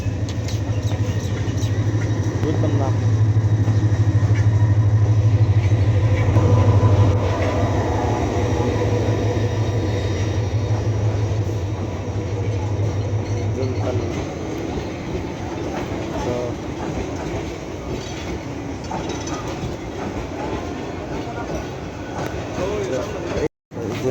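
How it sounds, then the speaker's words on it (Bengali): A train rumbles steadily into a station in Sylhet, loud and close with a low hum and rolling clatter that fades as it slows, while people speak briefly nearby. "এই যে ট্রেন চলে আসছে আমাদের"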